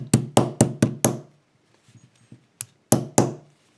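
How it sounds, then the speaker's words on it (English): Sharp knocks of spring clips being tapped into a reassembled euro cylinder lock, a rapid run of five close, loud raps, a pause with faint handling noise, then three more knocks. "These are spring clips, so it's very easy. Just need to knock on them."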